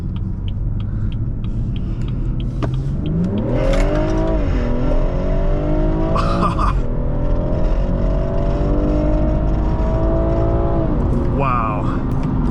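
A 2017 BMW 440i Coupe in Sport Plus mode accelerates hard, its engine note climbing steadily through the gears with brief dips at each shift, loud and close from inside the cabin throughout.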